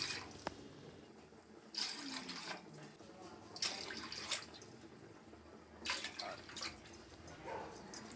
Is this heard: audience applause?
no